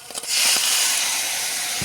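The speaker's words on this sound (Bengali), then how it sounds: "সামান্য একটু জল অ্যাড করলাম" A splash of water hits a hot pan of raw mango and spices, bursting into a loud, sustained hiss of steam after a few faint clicks.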